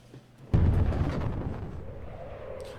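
A meteor strikes in the Worldbox god simulator game, a sudden heavy boom with a deep rumbling low end that slowly decays into a fading roar.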